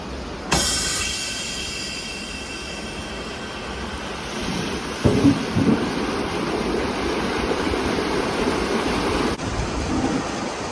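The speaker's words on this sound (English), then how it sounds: "I'll hit the flush and let it go for a few seconds" A strong water flush gushes down a barn alley at the SUNY Cobleskill farm, a loud, steady broadband rush that starts abruptly and keeps roaring for several seconds with a few knocks partway through.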